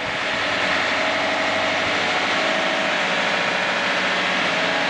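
A boat engine runs in its motor compartment during an ocean passage, a loud, steady close-up mechanical drone with continuous vibration and no breaks or voices.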